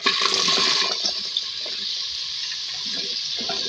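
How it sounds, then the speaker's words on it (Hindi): Bottle gourd pieces drop into hot oil for a gourd, green onion and potato dish, setting off a loud, steady broadband sizzle that starts strong and settles into a continuous hiss with faint crackles. "तो हम ऑयल में लौकी ऐड करेंगे।"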